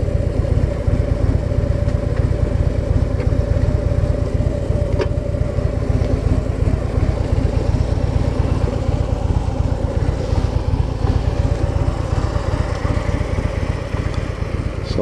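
An older Harley-Davidson Ultra Electra Glide motorcycle idles and putters along at low speed through tight slow-speed turns, a steady close engine rumble running throughout without pauses.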